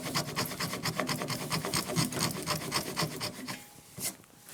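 A Japanese hand saw cuts wood for a tenon joint, giving close, rhythmic rasping strokes roughly every quarter second that slow and stop near the end, with no talking.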